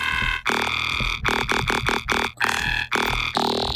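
Choppy, gritty synth bursts from a granulizer effect stutter in rapid broken fragments, loud and close, with a croaking, burbling texture and short gaps between grains.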